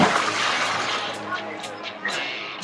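A person jumps into the cold creek swimming hole at the Crack at Wet Beaver Creek near Sedona, Arizona, making a loud, close water splash that tails off under outdoor chatter.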